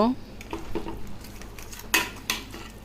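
A pot holding marinated meat and onion is handled on a stove, giving a few clattering metal knocks and scrapes, with two sharper clanks near the end against a quiet kitchen background.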